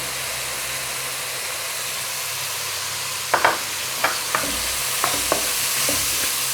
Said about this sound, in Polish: I mieszamy tak przez minutę, dwie, więcej nie.